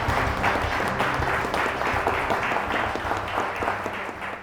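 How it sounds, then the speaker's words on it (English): A room full of people applauds a newly announced winner at a user-experience competition, giving steady, dense clapping for several seconds over a low background hum. "Let's have a round of applause"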